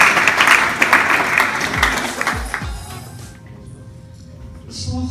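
Audience applause at a school poetry slam evening, loud dense clapping that fades out after about three seconds, with a few low thumps and a brief voice near the end.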